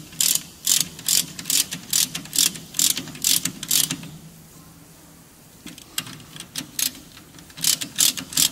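A ratchet tightens a brake caliper on a Golf 1 Cabriolet in a series of sharp, close clicking bursts, pausing briefly midway before the rapid clicks resume.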